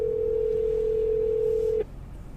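A steady telephone dial tone hums loud and unbroken for nearly two seconds as a phone call is being placed, then cuts off abruptly, leaving a quiet room.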